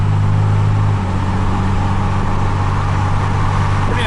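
A Cummins 12-valve diesel swapped into a Ford F250 holds a steady rev, a loud, even low diesel drone that settles slightly after the first second and continues without talk.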